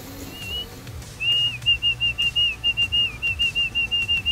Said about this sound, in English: I usually whistle when that falcon turns up, and it works wonders when you want to drop them